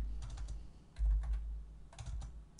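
Computer keyboard keys are pressed in short quiet clusters of clicks with brief pauses between them, recorded close and alone during Excel work.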